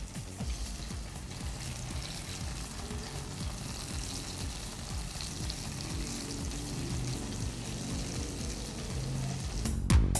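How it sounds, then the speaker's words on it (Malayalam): Masala-coated idli frying in hot oil with a loud, dense, steady sizzle and bubbling that runs throughout, ending in a brief clatter. "അപ്പോൾ നമ്മൾ മസാല തേച്ച ഇഡ്ഡലി എല്ലാം എണ്ണയിൽ പൊരിച്ചെടുക്കാൻ പാകത്തിന് ഇട്ട് കഴിഞ്ഞു."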